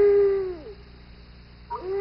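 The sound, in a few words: screech owl call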